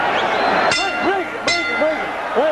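A boxing ring bell clangs twice to end the third round of a professional bout, bright metallic strikes ringing out over crowd noise and a commentator's voice.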